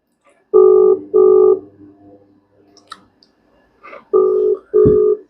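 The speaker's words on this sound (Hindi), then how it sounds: "अभी कॉल हमने कर दिया है।" Two pairs of long electronic ringback tones on a phone line, separated by a quiet gap with faint clicks, no voices.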